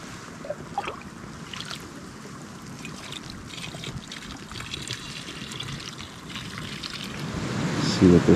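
Shallow stream water trickles and splashes around Gore-Tex boots wading across a winter stream crossing, a steady close babble that grows louder near the end, with no voices over it.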